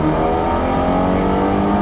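A tuned Toyota GR Supra accelerating hard on the Tsukuba circuit, its engine droning loud and steady from inside the car, with no talk over it.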